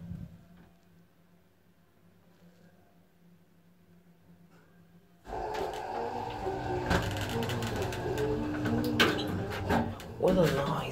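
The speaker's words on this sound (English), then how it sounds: "Very quiet. But a cheap generic elevator." A 1992 Imag roped hydraulic elevator in a building in Naples, Italy, runs with a low quiet hum that gives way to louder mechanical whirring and clunks partway through, with people talking over it.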